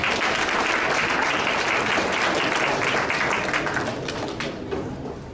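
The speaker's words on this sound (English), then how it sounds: "Let's give a round of applause for Louis Quesada." A round of applause from the audience at a community awards ceremony honoring senior volunteers, loud and dense from many hands, holding steady before tapering slightly toward the end.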